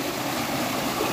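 Water rushes steadily at Thirupathur hidden falls, a dense, even wash of noise with no breaks or other sounds over it.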